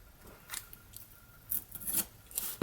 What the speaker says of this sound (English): I'm so used to cutting regular washi that I never press hard enough